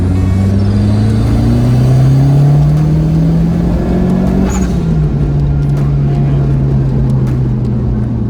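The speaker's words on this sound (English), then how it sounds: "just the noise of changing gear, just that flutter is sweet." A Ford Puma's engine revs steadily, the pitch climbing and then dropping as it shifts gear, loud and close with a continuous rumble.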